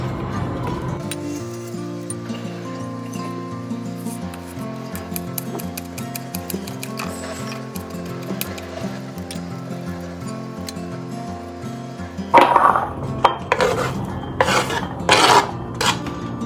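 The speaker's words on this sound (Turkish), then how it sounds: "Şöyle 3 tane de biber doğrayacağım." A knife chops peppers on a cutting surface in a home kitchen, with a light tonal backing throughout and a burst of louder, sharper knocks and clinks near the end.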